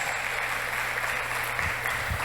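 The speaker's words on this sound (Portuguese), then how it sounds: "Vamos aplaudir o Senhor" A church congregation at a deliverance seminar applauds together, a steady wash of many hands clapping at even volume, with a low hum and faint murmurs underneath.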